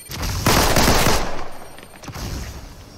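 Gunfire in Fortnite Zero Build, a short loud automatic burst that quickly fades into a quieter tail with a few fainter shots.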